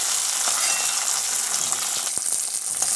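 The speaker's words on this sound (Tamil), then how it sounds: "வெங்காயம் நல்லா வதங்கட்டும்." Small sambar onions sizzle in hot oil alongside browned garlic in a pan for sundakkai kulambu, a steady close frying hiss broken by a few clinks and stirring scrapes near the end.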